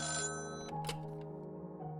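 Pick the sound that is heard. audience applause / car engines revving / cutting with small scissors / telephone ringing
telephone ringing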